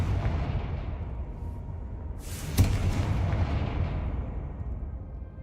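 Fiery Confringo spell blast in the video game Hogwarts Legacy: a sudden bright whooshing burst with a sharp crack at its peak, laid over a steady low game rumble and then fading into a hissing tail.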